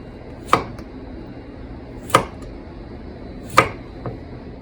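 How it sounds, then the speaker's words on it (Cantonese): A knife slices through stem lettuce in three crisp, evenly spaced cuts, each a sharp snap on the board, followed by a fainter fourth tap, all close and clear with no talking. "我哋咁樣切片呢"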